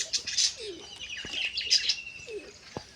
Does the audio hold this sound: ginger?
no